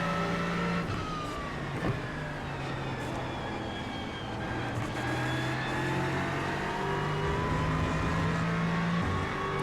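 Aston Martin EVO GT3 race car engine in the iRacing simulator, a loud continuous engine note rising and falling through upshifts and downshifts under braking and corner entry, without talk.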